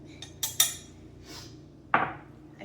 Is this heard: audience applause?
no